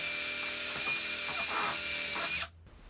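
Power drill driving a threaded rod into a tool stand tray, a close steady high whine with rhythmic pulses for over two seconds before stopping abruptly.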